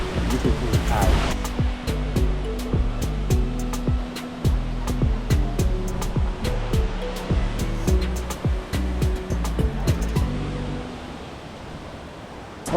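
Rushing water of Bomod-ok Falls, a broad steady roar close by, with scattered clicks and handling knocks over it and faint voices at times.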